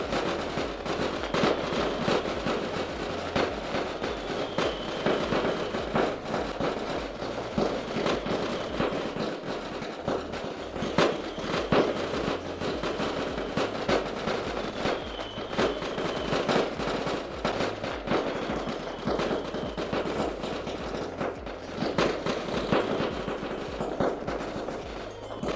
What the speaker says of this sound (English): now they're going to be setting some more fireworks off on the lake